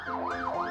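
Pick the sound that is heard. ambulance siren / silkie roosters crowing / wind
ambulance siren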